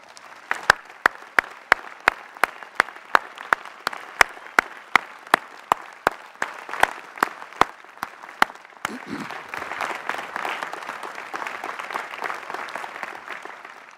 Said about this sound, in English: join me in giving all of them a round of applause